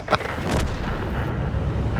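A tank's main gun fires in a combat video game, one sharp loud blast that gives way to a long rumbling boom and a sustained roar of echo.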